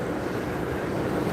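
Wind by the sea at Ayr buffets the microphone in a steady, rough roar, loud and close, with no voices.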